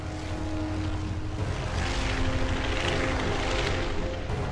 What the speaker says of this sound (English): at the air base at Chièvre in Belgium, the elite Luftwaffe bombardiers set off